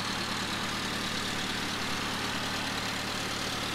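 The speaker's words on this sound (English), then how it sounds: "Engine running condition is good, but there's something rattling. I think it's the exhaust manifold here." A 1993 Honda Integra ZX 1600 engine idles in a steady, even drone with a fine buzzing rattle from a loose exhaust manifold woven through it, close and constant, no speech.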